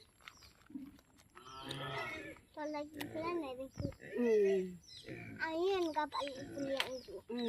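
A goat bleats several times up close, its wavering calls mixed with people talking nearby.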